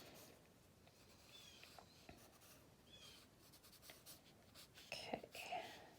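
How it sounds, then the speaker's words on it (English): Pencil sketching on paper, soft scratchy strokes rubbing steadily at close range, quiet and continuous with a few brighter scrapes near the end. "my pencil is following my eyes"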